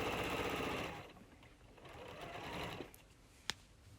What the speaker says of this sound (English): lower the presser foot so you're only stitching through this side gusset, and then stitch all the way to the end